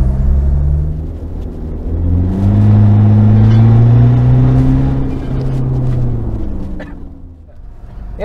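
Turbocharged car engine with an F55 turbo, freshly tuned, revving loudly and steadily over several seconds with rising and falling pitch, close and alone without talk.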